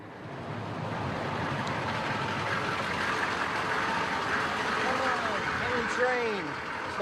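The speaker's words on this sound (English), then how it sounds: "Train." A train rolls past early in the morning with a steady, broad rumble and hiss that holds for several seconds, with faint squealing tones rising near the end.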